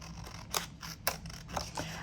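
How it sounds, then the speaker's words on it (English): Scissors snip close around paper ephemera during fussy cutting, giving about four sharp crisp cuts spaced under a second apart over a faint background hum. "So I'm just gonna fussy cut around it."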